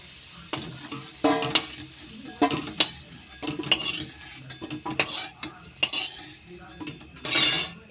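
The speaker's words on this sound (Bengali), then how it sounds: "আলুগুলো বেশ ভালো করে লাল লাল করে ভাজা হয়ে গিয়েছে। এবার তুলে নেব।" Potatoes fried until reddish for Kashmiri aloo dum sizzle in a pan while a metal spatula stirs and scrapes, making irregular clinks and knocks against the pan, then a louder sizzling rush as they are lifted out.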